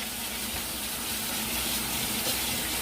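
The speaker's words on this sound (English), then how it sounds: "Just make sure you wash your hands, guys" A kitchen tap runs steadily as hands are washed before cooking, giving a constant, close hiss of flowing water with no talk.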